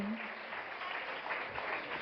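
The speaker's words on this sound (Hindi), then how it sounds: "एक बार जोरदार तालियां इन बहुओं के लिए।" A crowd at a Digambar Jain gathering in Indore claps continuously, a dense, steady wash of applause heard at moderate distance.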